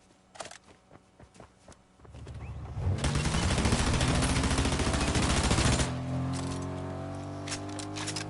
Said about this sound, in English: I know I got a dude shooting crap at me